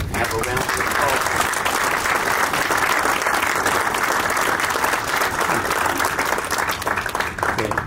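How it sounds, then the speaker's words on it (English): Sustained, loud applause from a seated audience at the Chicago Pipe Show's 2024 award presentation, a dense steady wash of many hands clapping throughout with faint voices underneath. "Have a round of applause."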